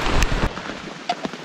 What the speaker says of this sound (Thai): ต้องหนีฝนนะครับ